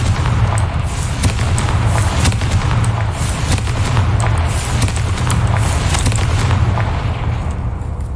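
Explosive Confringo spell blasts in a Hogwarts wizarding video game, a steady loud barrage of booming, crackling bursts rolling continuously with no speech over them.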